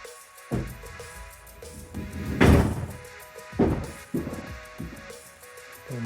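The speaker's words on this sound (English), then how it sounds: "Don't mind the door." A door is opened and closed in a workspace where a chimney is being repaired and 12V solar lighting installed, with one heavy thud near the middle and several lighter knocks and rattles around it, all fairly close, with no talking.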